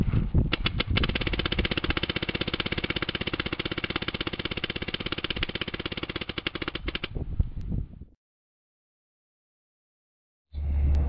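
A Nerf Cyborg blaster fitted with a Halo loader fires 100 rounds on full auto, a loud, steady rapid-fire mechanical rattle for about seven seconds that stops abruptly into silence before a motor whir resumes.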